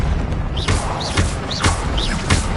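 The Levioso levitation spell being cast in Hogwarts Legacy on PS5, a series of rhythmic whooshing pulses with rising chirps and soft thuds, about four repeats in quick succession.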